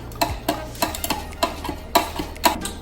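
A spoon mixing a sauce with brown sugar, giving regular scraping clicks against the bowl about twice a second, close and clear with no talk.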